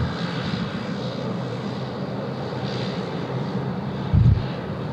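A passenger airliner goes around at Sydney Airport after an immediate-takeoff clearance came too late, its engines a steady, broad roar at moderate distance throughout, with a brief low thump near the end and no talking.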